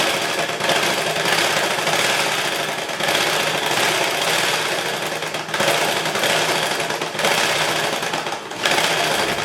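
A sewing machine stitches a lining seam on a blouse, running steadily and close at a fast, even rhythm, with brief slowdowns between bursts and no talking.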